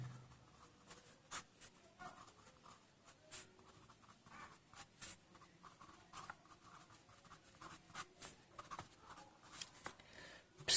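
Pen writing ligand names for IUPAC chemistry notes, quiet close scratching and tapping strokes in an uneven steady rhythm, alone with no talk.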